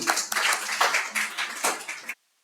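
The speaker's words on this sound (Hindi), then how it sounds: "ओ भाई तालियां तालियां तालियां, बेहतरीन" Students in a web and mobile app development class clap in a loose, uneven burst, fairly close and moderately loud, then it cuts off abruptly into silence.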